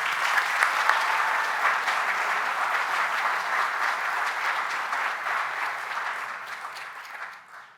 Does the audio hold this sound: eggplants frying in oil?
no